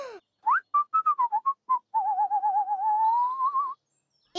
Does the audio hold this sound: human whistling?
yes